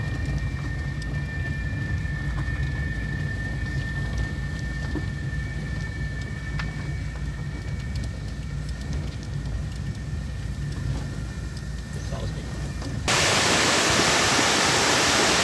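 Heavy water rushing over the spillway of a Cachoeira dam in southwest Bahia during heavy rain, a loud, steady broadband roar that fills the whole stretch and swells sharply louder near the end.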